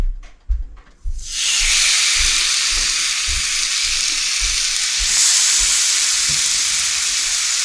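Loud, steady sizzling of venison tenderloins frying in hot peanut oil, rising abruptly after a second of soft clatter and continuing without a break.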